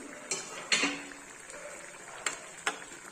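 A few sharp metallic clinks and scrapes as a pot lid is lifted off bitter gourd cooking, spaced out over a few seconds, fairly close with quiet kitchen background.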